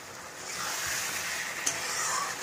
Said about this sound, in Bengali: এই যে কষাচ্ছি